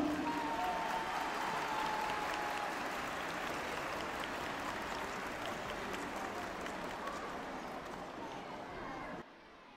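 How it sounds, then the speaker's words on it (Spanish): An audience at a school folk festival applauds third-grade students performing a Chiloé minga piece. Steady, moderately distant clapping from many people runs throughout, then cuts off abruptly near the end. "Más fuerte ese aplauso."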